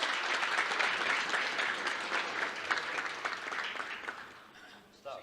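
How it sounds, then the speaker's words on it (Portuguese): An audience at a conference launch event gives a round of clapping, dense at first and slowly thinning out as it fades toward the end, with voices murmuring underneath. "Uma salva de palmas."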